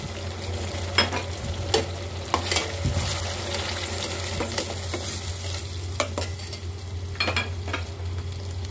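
Browned onions sizzling in a pan with ginger-garlic paste for beef biryani, a steady close frying hiss broken by regular scrapes and clinks of stirring, with no talk.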